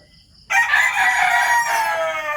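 A rooster crows loudly and close by, one long harmonic call that starts abruptly after a brief quiet moment and carries on to the end.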